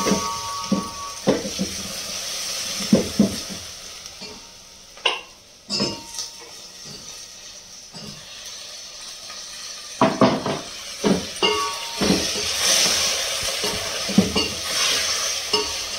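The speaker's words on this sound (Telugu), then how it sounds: "అల్లం వెల్లిగడ్డ కూడా కొంచెం నూనెలో లైట్గా ఇట్లాగా ఫ్రై అవ్వగానే ఇంకా వెంటనే టమాటాలు వేసుకోవాలి" Ginger garlic paste frying lightly in oil in a pan, a low sizzle under scattered clinks and scrapes of a spoon stirring against the metal, close by and without speech.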